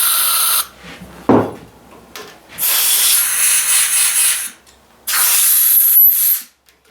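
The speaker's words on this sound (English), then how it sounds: "Give this a little shot of brake cleaner," Brake cleaner hisses loudly from an aerosol can in three sprays close by, a short burst, then a long spray of about two seconds, then another of about a second, with a clunk between.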